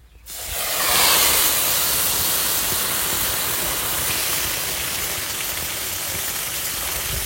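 Garlic frying in a pan as shrimp are added for jute leaf cooking, a sudden loud sizzle that flares up and settles into a steady, dense hiss.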